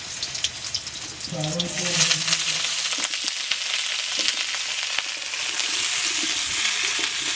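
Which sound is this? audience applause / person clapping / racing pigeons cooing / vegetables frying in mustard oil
vegetables frying in mustard oil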